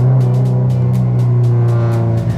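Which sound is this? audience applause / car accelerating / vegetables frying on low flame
car accelerating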